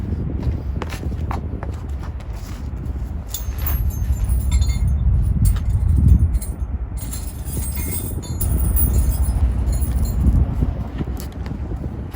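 Steel tire chains on a truck tire clink and rattle while being fitted and tightened with a small tightener wrench, giving irregular metallic jangles and scrapes over a low, rumbling outdoor background.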